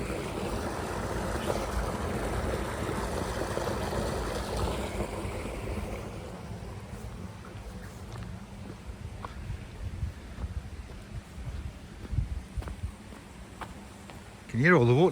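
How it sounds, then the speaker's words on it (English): Water running steadily into a row of fish farm ponds outdoors, a broad continuous wash of flow with some wind buffeting, holding at a fairly even level, with a louder gust near the end. "You can hear all the water feeding each one of those ponds"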